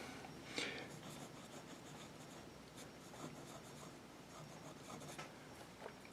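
A red marble fountain pen lays red ink on paper, giving faint scratchy strokes and soft rubbing, with a brief sharper scrape near the start. The quiet strokes continue steadily without any voice.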